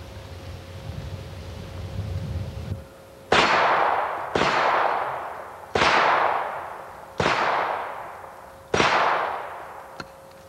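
Five sharp 9mm gunshots from a FeatherUSA handgun fired outdoors at a target, evenly spaced about 1.5 seconds apart. Each report is loud, with a long echoing tail, over a steady background hiss.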